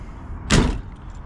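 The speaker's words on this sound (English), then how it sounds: "Door shuts really well." The door of a 1955 Buick Special Riviera two-door hardtop with a V8 shuts with a single solid thud, close and brief, over a low background rumble.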